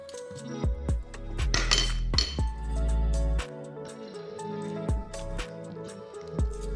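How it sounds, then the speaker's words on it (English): A whisk clinks against a bowl while whipped white chocolate ganache is mixed into cream cheese, giving repeated close metallic taps and scraping strokes with no voice. "Drop in half of the whipped white chocolate ganache into the cream cheese and whisk it in"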